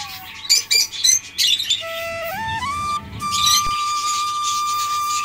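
Lovebirds in an aviary, a mix of sharp chirps and thin whistling calls, with a burst of quick tweets early on and longer rising whistles after, fairly close and with no talk.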